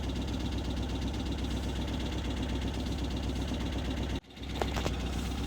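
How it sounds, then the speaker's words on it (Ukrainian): An Opel car engine idles with a steady, even mechanical hum and rattle, close and constant, before it cuts off abruptly near the end, leaving brief clatter. "Тільки працює холостих обертах."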